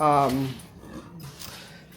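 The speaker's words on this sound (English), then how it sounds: "And then Dakota barked." A dog makes a short whining, barking call at the start, followed by quieter snuffling and rustling and a brief vocal burst at the end, recorded close indoors, with human voices mixed in.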